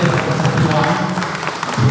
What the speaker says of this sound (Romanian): La mulți ani, părinți! Aplauze!